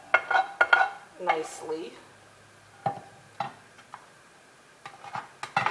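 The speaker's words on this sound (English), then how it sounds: "I'm just going to take all of this ground turkey out now that it's browned" Browned ground turkey scooped out of a frying pan with a utensil, giving repeated close scrapes and clinks against the pan over a faint sizzle, with a brief spoken word in between.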